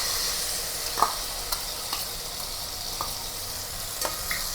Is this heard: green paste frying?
yes